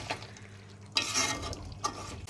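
A spiced goat head fries in a pan with scraping stirs and bursts of sizzling, the sizzle swelling each time the meat is turned and then settling to a soft hiss.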